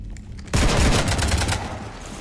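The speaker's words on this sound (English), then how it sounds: "You want to stop shooting up my ship?" Sustained automatic gunfire in Mass Effect 3, a dense rapid burst aimed at a ship that starts abruptly after a quiet moment and continues loud and steady to the end.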